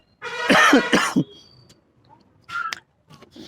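A man with a slight cold gives a few harsh coughs up close, a quick cluster of rasping bursts followed by a quieter throat-clearing cough after a pause.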